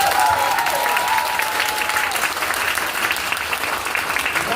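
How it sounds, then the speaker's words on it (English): An audience at a business forum claps loudly and continuously, a thick patter of many hands holding steady through the clip, with a faint voice or tone briefly at the start. "when you clap, please clap until your hand hurts."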